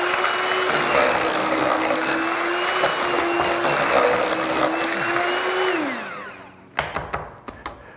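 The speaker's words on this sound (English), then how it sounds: "After I mash those up a little bit, I'll blend them up." Blender whirring through mashed fruit, a loud, close, steady motor drone that winds down at the end, followed by a few sharp clunks of the jar or lid being handled.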